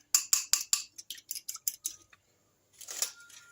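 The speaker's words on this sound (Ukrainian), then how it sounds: "Все це розмішую гарненько." A spoon clinks rapidly against a bowl while stirring milk and sugar, a quick run of light taps that stops, then a soft scraping swirl.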